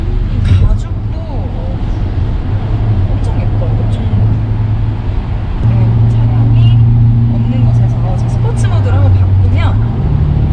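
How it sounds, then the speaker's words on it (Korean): Maserati exhaust note rising as the car accelerates, engine revs climbing in a continuous drone heard from inside the cabin, with people talking and exclaiming over it. "바로 RPM이 이렇게 치솟으면서 가속을 했을 때 오! 오! 네, 소리가 바로 배기음이 나죠"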